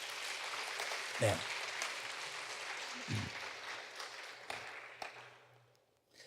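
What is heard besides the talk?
applause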